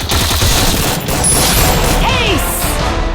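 Rapid bursts of gunfire fill a Free Fire match during a rush on an enemy squad, a dense, loud fusillade of shots with crashes and booms layered throughout.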